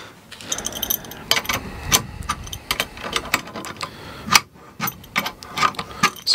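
A bolt with a split lock washer is tightened on the aluminum frame of a Geeetech Prusa i3 3D printer, a close series of irregular ratcheting clicks and metallic ticks.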